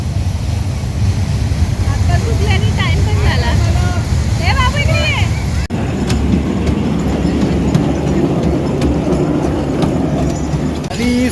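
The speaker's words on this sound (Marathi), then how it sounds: "सुहानी ते ट्रेनमध्ये बसलेलं आहे" An amusement ride train at a Dubai theme carnival rumbles and clatters along steadily, loud and close, amid a busy crowd with voices and children's shouts.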